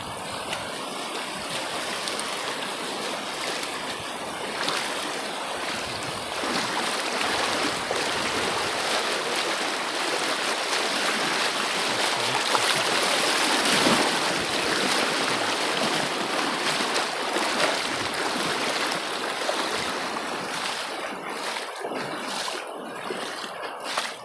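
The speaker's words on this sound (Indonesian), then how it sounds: "Arus yang kencang." A fast, strong river current in an inland waterway rushes steadily and loudly, with broad churning and splashing water noise that swells midway and never lets up.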